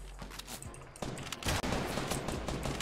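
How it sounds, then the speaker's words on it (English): Gunfire in Fortnite rattles in quick bursts, quieter at first and then a louder, dense run of shots. "He's shooting at me."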